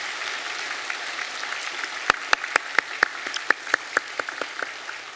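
Room hiss gives way to about a dozen sharp hand claps in a loose, fairly even rhythm, a church congregation applauding during a Sunday service in a large room.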